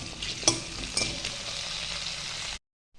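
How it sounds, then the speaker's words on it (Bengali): Long-cut potato pieces frying with salt and turmeric in a home pan, a steady close sizzle with light stirring scrapes and a couple of brief clinks, continuous until it cuts off near the end; no voices. "আর প্রথমেই আমি আলুগুলোকে একটু ভেজে নেব"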